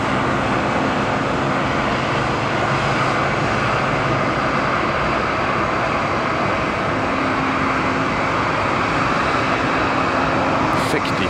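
Jet airliner taking off from Tampa airport, a loud continuous engine roar with broadband rumble holding steady throughout, traffic-like hiss beneath, heard from a spotting position.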